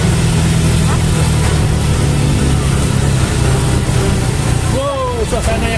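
A car engine brakes downhill in third gear on the road from Bandung to Puncak, its temperature gauge near red, giving a steady low drone under someone talking.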